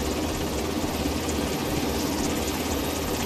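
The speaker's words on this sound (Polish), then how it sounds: "Leci helikopter." Helicopter flying overhead in the video game The Division 2, a steady loud rotor and engine drone filling the whole stretch with no pauses or talk.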